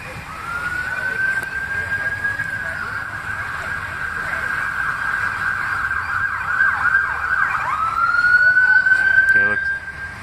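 Wailing sirens from police cars, an ambulance and a fire truck at an Oshawa house fire sound loud and close, a long steady tone that dips and rises again near the end, with a voice speaking faintly underneath.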